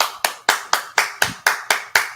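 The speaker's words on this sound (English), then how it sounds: "Hand claps, finger snaps, and toe taps." Nine sharp single hand claps land in an even, steady rhythm about a quarter second apart, close and crisp with no talking.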